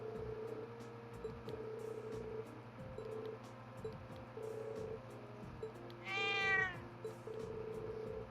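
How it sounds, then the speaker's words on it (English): A cat meows once, briefly and clearly, in the Trails of Cold Steel video game, over a steady low musical and ambient game soundtrack with no voices. "I guess Crow's pretty good with the cat, too."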